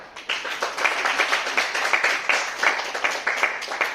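An audience at an International Yoga Day event in Rajnandgaon, India, claps steadily and rhythmically in unison, a moderately loud, even beat with no talking.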